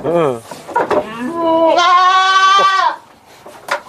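Breeding goats bleating on a goat farm, several loud, close, wavering cries in succession, including one long sustained bleat.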